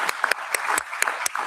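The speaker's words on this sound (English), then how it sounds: "Please join me in a round of applause for the panelists" Audience at an AI, security and ethics conference applauding panelists, a dense burst of many hands clapping at steady close range with sharp individual claps standing out, no voices.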